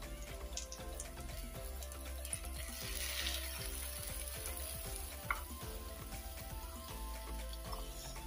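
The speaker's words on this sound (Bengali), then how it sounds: "একটু মশমশা করে ভেজে তারপর চা দিয়ে খাবো" Food fries in a pan until crispy, giving a steady soft sizzle and crackle with occasional stirring clicks, heard fairly faintly and without any talking.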